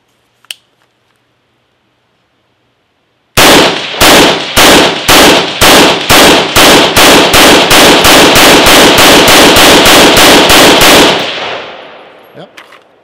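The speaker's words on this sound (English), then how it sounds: "Let's go ahead and shoot this magazine." A rifle fires a long string of roughly twenty evenly spaced, sharp, very loud shots, emptying an M3 PMAG magazine during a torture test. The shots end abruptly, leaving only a faint clatter.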